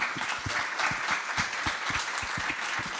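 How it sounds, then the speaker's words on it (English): A live podcast audience claps in a steady, dense burst of applause throughout, close and loud with no voices over it. "Everyone, give Mike a round of applause here."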